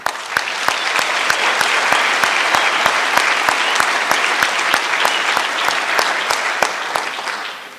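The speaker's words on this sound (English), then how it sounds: "A round of applause once again to you" An audience at a university health sciences graduation ceremony claps steadily for the graduates, a full even wash of applause with sharp individual claps standing out, fading slightly at the close.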